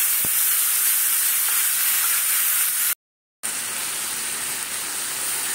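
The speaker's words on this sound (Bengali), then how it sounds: "এটাকে তেলে ভালো করে ভাজতে হবে।" Chicken frying in oil for lemon chicken gives a loud, steady, close sizzle with a constant hiss, broken by one brief moment of silence before it resumes.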